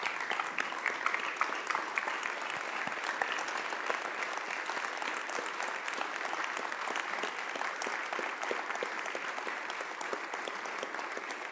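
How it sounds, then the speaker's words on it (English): Applause fills a state Senate chamber in honor of veteran staff members, a steady even patter of many hands clapping at a moderate level without pause. "will you just give them a brief round of applause just to say thank you for their service as our staff members."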